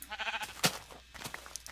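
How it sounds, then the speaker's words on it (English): A sheep in the Minecraft video game bleats, a brief wavering bleat followed by a sharp click and faint game sounds, close and moderately loud. "Ah, there's a sheep."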